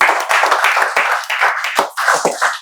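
A classroom of students claps together in a quick, rhythmic burst of applause, loud and close, with no talking.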